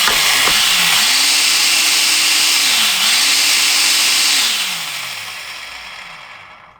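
A Ryobi wet and dry vacuum motor runs close and loud with a rushing airflow roar and a steady whine, dipping briefly and then winding down as it shuts off, with no voices over it.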